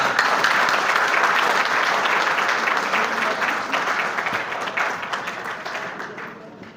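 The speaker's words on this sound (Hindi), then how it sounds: "तालियां।" At a bank employees' association gathering, an audience bursts into loud, sustained applause that stays full for several seconds and then gradually thins and fades toward the end.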